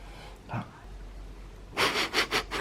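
Several quick, sharp sniffs in a row up close, preceded by a single softer breath.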